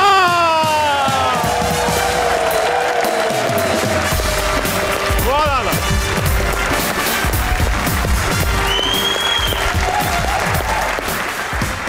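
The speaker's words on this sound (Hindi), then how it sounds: "तो अपनी तालियों को कर दीजिए आजाद।" A studio audience on a comedy talk show applauds and cheers to welcome Pakistani model and actor Omer Shahzad, sustained loud clapping under music, with a brief spoken remark.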